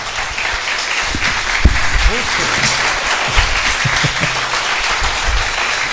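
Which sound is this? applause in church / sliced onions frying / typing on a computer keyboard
applause in church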